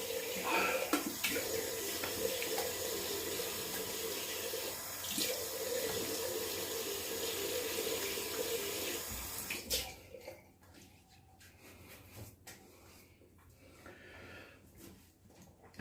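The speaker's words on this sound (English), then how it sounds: "Oh, that water's getting cold." Water pours steadily from a tap into a sink, a loud continuous rush for about ten seconds that then cuts off, leaving quieter room sound with faint breathing and small movements.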